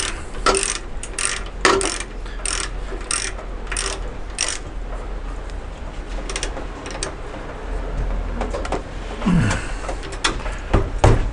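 Socket ratchet tightening a Harley Davidson compensator with the peg back on, a close run of rapid metallic clicks in bursts over a steady low hum, a few clunks near the end.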